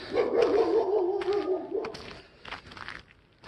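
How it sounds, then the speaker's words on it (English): Dogs barking and yipping close by, a loud cluster of barks at the start that thins into scattered, fainter yelps. "geez, all these dogs"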